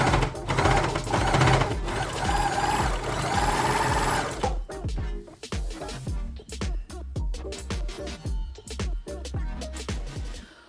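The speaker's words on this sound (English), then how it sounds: "Overlock the edge that you have just sewn" An overlocker sewing the edge of a denim bag made from old jeans: a loud, fast continuous mechanical whirr for several seconds, then it slows into a series of separate sharp stitching clatters.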